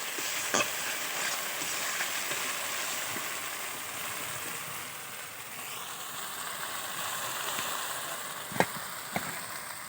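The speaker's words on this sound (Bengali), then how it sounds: "খুব ভালো করে ভেজে নিতে হবে" Chopped tomato with onion paste fries in a pan with very little oil, giving a soft, steady sizzle throughout, with a few sharp clicks of a utensil against the pan near the end.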